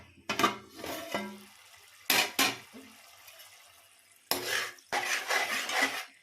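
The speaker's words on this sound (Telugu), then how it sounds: "ఇప్పుడు ఒకసారి కలుపుకుందాం" A spoon stirs a thick Telangana-style fish curry paste in a metal pot. Scraping and clinking come in three separate bursts, the last one longest, with faint sizzling and quiet gaps between.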